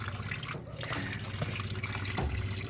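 Tap water running steadily into a sink while raw chicken is washed, a continuous close splashing wash with soft handling noises.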